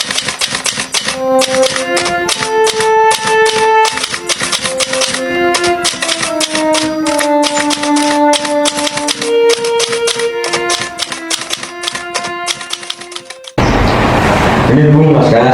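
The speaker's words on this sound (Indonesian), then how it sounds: "ketik dengan secepatnya." Rapid, continuous typing on a typewriter as a script is retyped in a short school film about the Rengasdengklok event, crisp keystrokes close up for about thirteen seconds before a sudden louder noisy cut.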